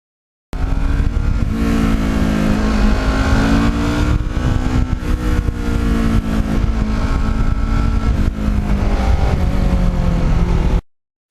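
A Yamaha MT-09 motorcycle riding on Michelin tires, engine droning steadily close up with shifting pitch and constant wind rush, loud and continuous throughout with no talk.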